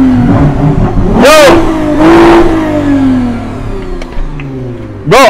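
A car engine revs hard several times in sharp bursts, each roaring up and falling back to a low idle. The sound is close and loud.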